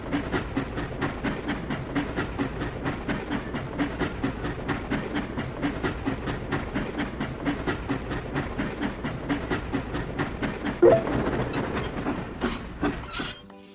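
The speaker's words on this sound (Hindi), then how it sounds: "हमें ट्रेन को डिपो भेजने की जरूरत है।" Cartoon train heading to the depot; rhythmic clickety-clack of wheels with regular beats and a faint squeal, ending in a brief hiss and a brighter burst near the close.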